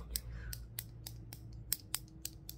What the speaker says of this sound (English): So let me just go ahead and cut your hair.